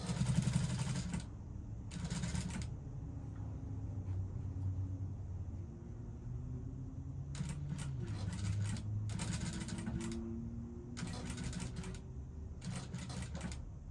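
A sewing machine stitches the yoke to the body of a bustier dress with a 1/4 inch seam, running in loud rapid bursts separated by pauses over a steady low motor hum.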